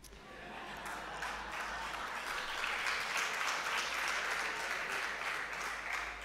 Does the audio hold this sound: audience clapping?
yes